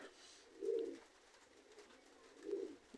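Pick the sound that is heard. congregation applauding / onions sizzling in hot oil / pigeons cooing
pigeons cooing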